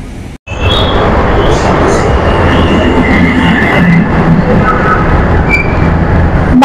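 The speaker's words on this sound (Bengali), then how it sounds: "তো এখন আমরা এই যে মেট্রোর ভেতরেই আর কি যাচ্ছি" Steady loud rumble and rush of a Dhaka metro train in motion, heard from inside the carriage, with a continuous broadband roar and faint higher whines over the whole stretch.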